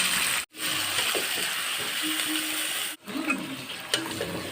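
Beef roast masala sautéing in a pan, a steady broadband sizzle with scraping stirs and a few metallic clicks, broken by two brief pauses, close and fairly loud with no talking.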